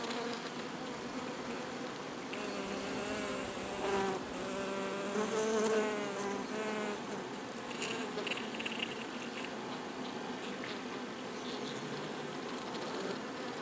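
A dense hum of a honeybee colony in swarming condition, many bees buzzing together, steady and continuous, with individual wingbeats rising and falling close by.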